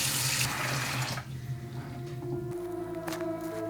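Water pours from a tap into a plastic laundry basin that holds 25 litres, a steady close rush that thins partway through, turning into a lighter trickle and splashing as the basin fills.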